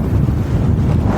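Strong wind blows hard at the seashore, buffeting the microphone with a loud, continuous low roar that may carry faint surf beneath it.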